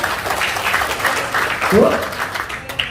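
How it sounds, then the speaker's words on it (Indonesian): Brief applause from a group, light scattered clapping under ongoing voices in a room. "tepuk tangan buat siapa?"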